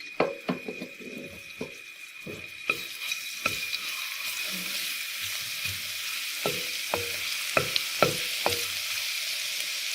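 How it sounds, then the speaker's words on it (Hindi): Grated garlic sizzles in hot oil with a steady, quiet frying hiss. A spoon taps and scrapes the pan now and then, in sharp clicks throughout. "ऑयल हमारा गर्म हो चुका है। अब इसमें लहसुन शामिल कर देंगे। ग्रेट किया हुआ लहसुन है ये।"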